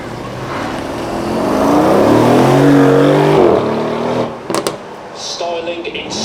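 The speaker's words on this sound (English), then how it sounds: "This is our Aston Martin with the very clever aero" An Aston Martin supercar with active aero sweeps past at a supercar weekend, its engine note rising and then fading away over a few seconds, with brief clatter and faint crowd noise after it passes.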